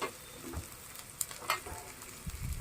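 Onions and green chillies sizzle and fry in a pan while being stirred, a steady close crackling hiss with occasional scraping, no talking over it.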